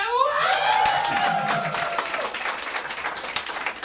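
Applause and cheering from a live audience at an empowerment program event, loud and steady at first, then thinning toward the end, with a tonal sweep near the start.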